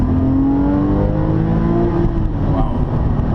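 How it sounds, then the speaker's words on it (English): A Porsche 997 911 Carrera S engine revs hard toward 7000 rpm, a loud, close, steadily rising wail that holds strong throughout, with no speech. "I really find this lovely engine, and the S gives it that much more urgency and push than the normal one."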